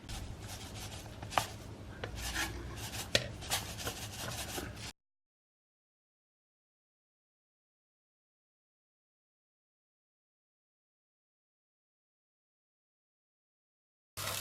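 A spoon scrapes and rubs steadily around a pot of muhallaba mixture for a Turkish dessert, giving a brisk, close scratching with a few sharper knocks. After a few seconds it drops to silence until a brief burst returns at the very end.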